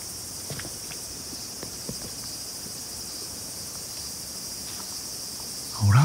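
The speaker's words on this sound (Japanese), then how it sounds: "マジでセミめっちゃ鳴いてる" Cicadas drone in a loud, steady, high-pitched chorus at night in an August woodland lit by a street lamp, with faint scattered rustles and a louder thump at the very end.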